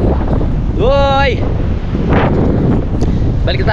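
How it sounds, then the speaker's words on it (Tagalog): Strong wind from a typhoon roars steadily at the coast, buffeting the microphone with constant loud rumble, while a brief voice or whistle rises over it. "Nandito na kasi yung hangin."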